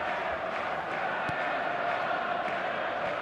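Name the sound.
stadium crowd noise in eFootball video game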